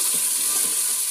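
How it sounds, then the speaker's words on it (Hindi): Peas frying in a pan for matar pulao hiss in a brief, steady sizzle with faint rattling from the peas, heard alone without talk. "मटर ऐड कर देंगे और 1 मिनट के लिए भूनेंगे मटर"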